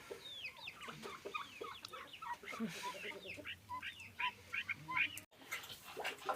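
Several chickens cluck and chatter close by over their grain in a continuous, busy flock on a Ukrainian village farm, with faint rustling underneath.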